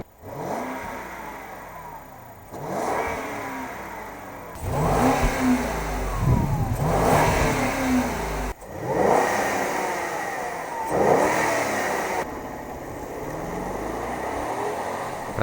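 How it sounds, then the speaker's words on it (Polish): Mercedes S 560 4Matic long-wheelbase limousine with a V8, accelerating in repeated surges that rise and fall across gear changes, heard from inside the car at moderate loudness. "jedynie ledwo słyszalny pomruk V8 pod maską"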